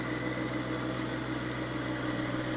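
A John Deere 1025R compact tractor engine runs at a steady idle nearby, a constant low droning hum with a slight vibrating rattle and no pauses.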